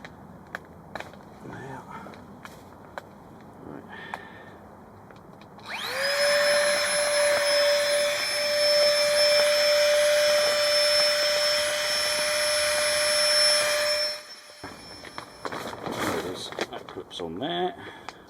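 Electric pump inflating a sleeping pad inside a hot tent on a solo forest camping trip: a loud, steady whining hum runs for about eight seconds, with a person talking before and after it.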